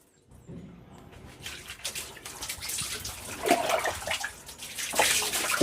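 Water splashes and pours in irregular bursts while someone is bathed and soaped in a bathroom, growing louder toward the end, with scattered drips and sloshes nearby and no talk.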